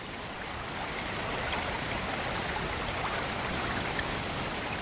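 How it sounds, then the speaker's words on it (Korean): Water spreads wide over a broad, waterfall-like stream in Cheorwon and pours down with a steady, even rush. The hiss stays constant and fairly close, with no talk. "어떻게 저렇게 넓게 퍼져서 폭포처럼 되어 있지?"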